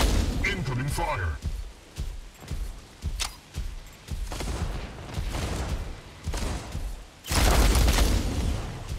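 Gunfire and artillery blasts from the Mech Arena video game, a series of booms and bursts scattered through the clip with a heavy, loud blast near the end, under a game voice calling out.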